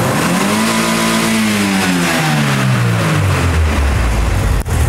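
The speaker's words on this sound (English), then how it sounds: "A really good full throttle acceleration." A car engine revs at full throttle acceleration, loud and close, its note climbing and then falling away over a few seconds.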